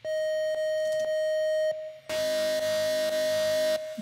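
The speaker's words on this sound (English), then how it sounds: "It's this super digital distortion." A synth sine wave put through harsh quantized digital distortion, a steady buzzing tone with brief clicks, dropping out for a moment before returning louder and gritty, alone without talk.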